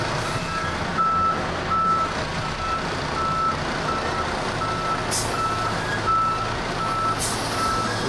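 A semi truck backs up a trailer, its reversing alarm beeping in a steady, evenly spaced rhythm over a low diesel rumble, with a couple of short hisses from air brakes.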